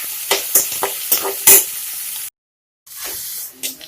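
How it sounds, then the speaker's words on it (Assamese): Onions sizzling and hissing in a hot pan for an Assamese-style mutton curry, stirred in repeated loud scraping bursts, with a brief silent gap before the frying resumes. "এতিয়া অলপ সময় পিঁয়াজখিনি আমি ভাজিব লাগিব"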